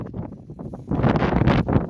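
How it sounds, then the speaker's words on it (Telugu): Gusting sandstorm wind sweeps sand across the Kuwait desert, building from rustling bursts to a louder, sustained roar that batters the microphone close up. "అంత గాలి వెళ్ళిపోతుంది చూడండి, ఇసుక మొత్తం కొట్టుకుపోతుంది"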